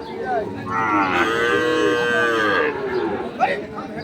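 A Sahiwal bull calf at a livestock market lets out one long, loud, drawn-out moo, close by, over faint crowd murmur.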